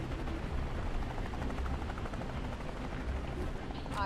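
A helicopter in the tactical espionage video game Phantom Doctrine gives a dense, steady rotor roar with rumbling low-end noise, continuous and fairly loud over the whole stretch.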